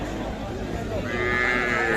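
Cattle and small calves at a weekly rural livestock market in Bangladesh, with a low moo rising over a dense crowd murmur and market bustle, fairly close and continuous.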